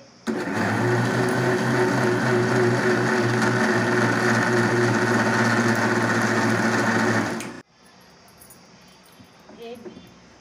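A mixer grinder blending bael fruit with sugar whirs loudly and steadily for several seconds, then cuts off abruptly, leaving quiet room noise.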